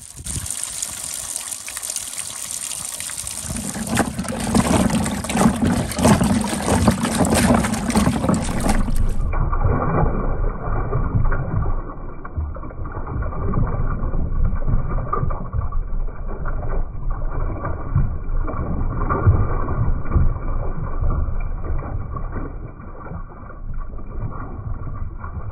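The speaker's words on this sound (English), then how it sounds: "we're going to wash them off so we can see more clearly where the ammonite" Running water gushes and splashes steadily over stone fossil nodules holding ammonites as they are rinsed clean, a loud continuous wash with no talk.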